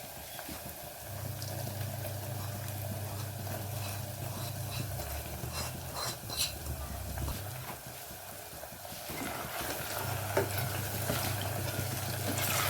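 A washed toor and masoor dal mix is stirred in a pan, with soft scraping and shuffling strokes over a faint sizzle that keeps going throughout, quiet and close.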